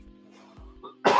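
A single harsh cough bursts out near the end, loud and close, after a quiet stretch with faint background hum.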